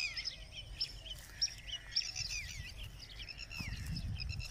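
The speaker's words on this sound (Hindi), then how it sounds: "परिंदों की आवाज़ें सुने, ये सब रियल है अल्हम्दुलिल्लाह।" Several birds chirp and call outdoors near a mosque, with quick high tweets repeating over faint background noise and a low rumble late on.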